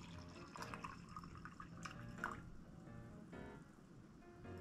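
Hot coffee pours into a decanter, a quiet liquid trickle and splash with a few drips, close and faint, without speech.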